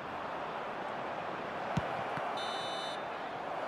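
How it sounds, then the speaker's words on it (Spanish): A short high referee's whistle stands out above a loud, steady stadium crowd roar at a Manchester United vs Chelsea Premier League match in 2023. "Suena el pitido del árbitro."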